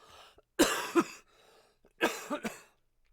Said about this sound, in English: thanks for the cough attack